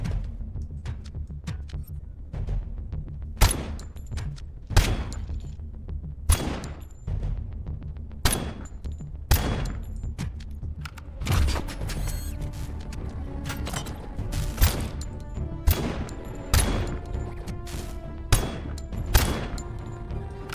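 Gunfire in the Robocop video game: repeated sharp shots ring out at irregular intervals over a steady low rumble of game sound, loud and close, with no talk.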